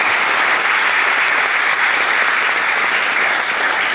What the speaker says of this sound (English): I would like you all to join me in congratulating him with a big round of applause